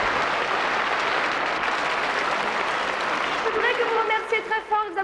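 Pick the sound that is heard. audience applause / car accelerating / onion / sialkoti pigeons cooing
audience applause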